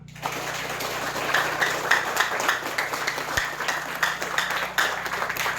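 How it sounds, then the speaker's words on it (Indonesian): A class in a Christian religion lesson applauds its song and prayer leaders with dense, continuous clapping that swells and dips slightly over several seconds. "Kita buat tepuk tangan untuk yang tadi pimpin lagu dengan doa."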